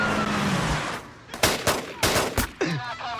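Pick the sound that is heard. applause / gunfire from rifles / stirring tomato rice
gunfire from rifles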